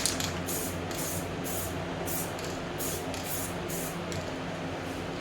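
Spray paint hisses onto a project in a run of quick bursts, about ten short pulses of airy spray in a steady rhythm over a constant low background hum, close by.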